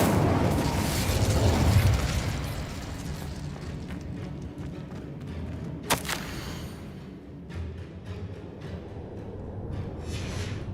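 An Incendio fire spell goes off in Hogwarts Legacy as one sharp, loud burst near the middle, set against a steady rumble of game ambience. No one speaks.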